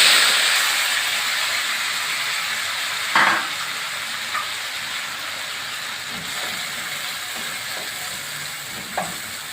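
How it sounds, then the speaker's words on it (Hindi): Tomatoes go into a pan of frying bitter gourd and onions, sending up a loud, bright sizzle that gradually settles, punctuated by a few soft clinks and scrapes of stirring. "अब मैं इसमें टमाटर डालूँगी।"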